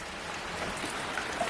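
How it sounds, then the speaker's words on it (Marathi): Heavy monsoon rain falls over a Konkan village, a steady, fairly soft broadband hiss with a few faint droplet ticks and no voices. "पाऊस गावाकडे प्रचंड पडतो आहे"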